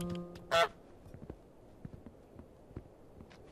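Goose honking in Untitled Goose Game, a single short loud honk early on, followed by soft pattering footsteps and light taps.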